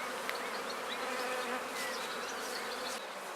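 Honeybees from a strong colony crowding the outer frames of a hive buzz in a dense, steady drone that carries through the whole stretch with no talk.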